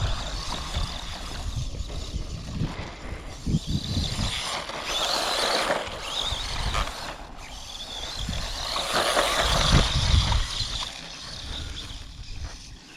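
A WLToys A969 small-scale RC car pushes through thick grass, its motor whining and tires thrashing blades in a continuous rough rustle that surges and fades as it struggles for momentum.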